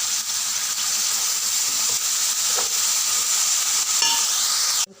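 Chopped spring onions stirred into a frying spring-onion leaf curry give a steady, close sizzling hiss, broken by a few soft stirring scrapes and clinks before it cuts off abruptly.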